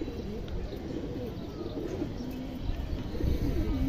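Pigeons of a fancy breed coo softly nearby, a few low rolling calls rising and falling over a faint background hum.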